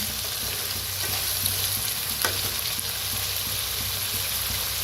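Vegetables for sambar, including pumpkin, are stirred in a hot pan, giving a steady close sizzle with soft scraping stirs and a faint low hum throughout, no voices.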